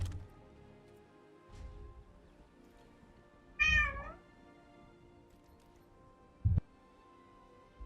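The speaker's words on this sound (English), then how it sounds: "That's some cat cries there." A cat meows once, a short clear wavering cry standing out over quiet background hum, with a couple of faint soft knocks before it and a brief low thump afterward.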